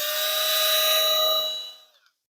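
A Milwaukee M12 Fuel die grinder spins at a high, steady whine with strong tonal harmonics, then winds down and fades to silence after about two seconds, heard alone and close.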